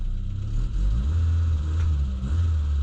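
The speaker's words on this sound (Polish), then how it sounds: "Yy, dodam gazu." A petrol car engine revs up from an uneven, faltering idle, a steady close rumble with small dips in pitch and no talking over it.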